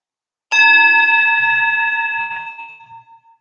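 A single meditation bell struck once, loud and close, with a rich ringing tone that sustains and slowly decays over nearly three seconds in a quiet room.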